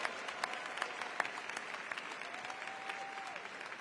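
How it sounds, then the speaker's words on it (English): Steady, fairly distant applause from a large AFT convention crowd runs throughout, soft and even with no voices rising above it. "Please give them a round of applause"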